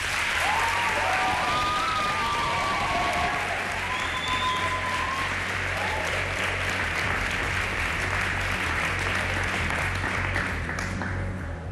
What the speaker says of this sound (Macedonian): Аплауз за Јана може ли?